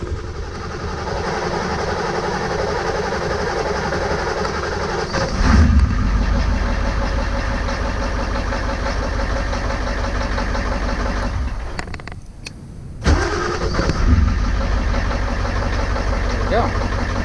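A Ford F-350 with a 7.3 IDI diesel engine cranks over and settles into a steady, loud idle close by, with a brief dip and surge partway through as it keeps running on its own.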